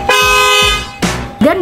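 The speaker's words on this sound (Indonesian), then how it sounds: "klakson yang masih cupu juga udah kita ganti pakai klakson model BMW yang bunyinya kayak gini" An aftermarket BMW-style car horn fitted to a Toyota Zenix Q Hybrid sounds in long sustained blasts with rich harmonic tones, followed by shorter honks, close and loud.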